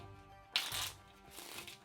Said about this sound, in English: shuffle the cards